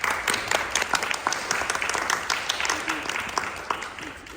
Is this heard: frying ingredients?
no